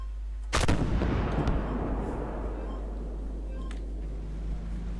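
A tank main gun fires once in the video game Armoured Warfare, a loud, sharp boom followed by a long rumbling decay and faint battlefield noises.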